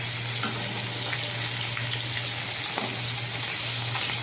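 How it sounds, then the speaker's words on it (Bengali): A hilsa fish head fries in hot oil in a wok, giving a steady, loud sizzle with scattered crackles and pops, heard up close without talk. "কড়াই তেল গরম করে ইলিশ মাছের মাথাটাকে আমি ধুয়ে ধুয়ে ভেজে নিচ্ছি দেখুন আমি ভাজছি"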